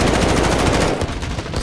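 Rapid automatic gunfire from Call of Duty: Modern Warfare on the Krovnik Farmland ground war map, a loud close burst of rattling shots that tapers off after about a second.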